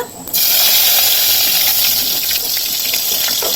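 Curry leaves hit hot oil with a sudden loud sizzle, then a steady crackling hiss continues close by without letting up.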